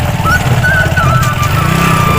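A motorcycle ridden across sandy ground on a river island in Kamrup, Assam, its engine droning steadily and close throughout, with a faint high whine rising and falling above it.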